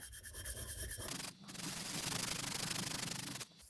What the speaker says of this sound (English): I'm just cleaning off the marking blue with some emery cloth